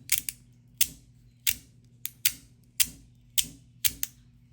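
Sharp plastic clicks from a Magnus Wacky fiber fidget slider with O-rings snap at irregular intervals, about a dozen crisp clicks over a low steady hum, close and fairly quiet.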